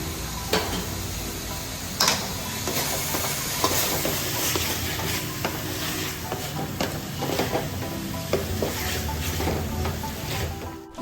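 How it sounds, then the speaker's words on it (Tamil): Baby potato masala frying in a pan as tomatoes go in and get stirred, with a steady close sizzle and repeated scraping clicks of the spoon throughout, no talking. "தக்காளி போட்டுக்கலாம்"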